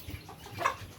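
A hen, a pregnant brood hen on a small farm, gives a short soft clucking burst near the middle of a one-second clip over low background rumble.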